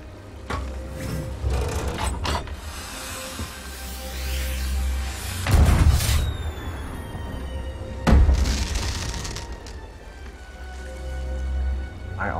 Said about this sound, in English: Now we will do the Thunderstrike Firework.